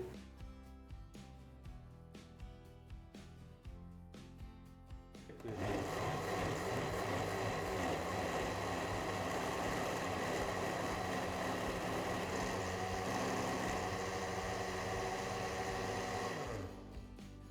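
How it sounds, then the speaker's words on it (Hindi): A kitchen blender runs loud and steady, grinding raw mango pulp with a little water into a fine paste for mango juice, roaring continuously for about eleven seconds before switching off, with quieter kitchen handling before it starts. "एक से 2 मिनट मशीन को चलाने के बाद ब्लेंडर जार मशीन के ऊपर से उतार लेंगे।"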